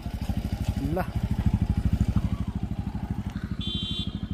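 A motorcycle engine thrums steadily nearby on the way to Dhorpatan, Nepal, with a fast, even pulsing putter, briefly revving midway, with a faint high tone near the end.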